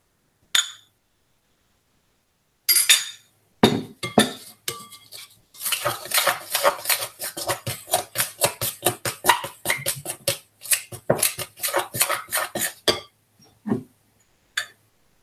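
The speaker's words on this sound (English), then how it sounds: "I'm using a palette knife rather than a wooden spoon or spoon to stir this in." A palette knife stirs dough mixture in a bowl, producing a close, rapid run of clinking and scraping strokes against the bowl, with a few isolated knocks before and after.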